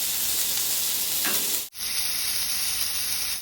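A lamb keema burger patty sizzles loudly in a hot pan, a steady frying hiss that cuts off briefly as the patty is flipped, then resumes with a bright, sharp sizzle.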